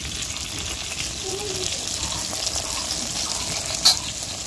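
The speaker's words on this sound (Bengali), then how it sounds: "মাছ ভাজা হচ্ছে" Fish frying in a pan on a home stove makes a soft, continuous sizzle, with a brief clatter near the end.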